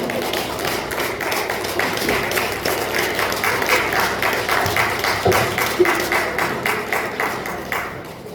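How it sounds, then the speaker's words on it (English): Sustained round of applause from the audience at an essay competition award ceremony, a dense, steady wash of many hands clapping that runs for several seconds and fades slightly at the end. "Give her a round of applause"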